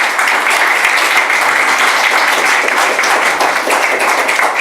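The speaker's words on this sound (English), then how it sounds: "So, round of applause for the speakers." A seminar audience applauding its speakers at a Latin America conference, a loud, close, continuous roar of many hands clapping that stays even from start to finish.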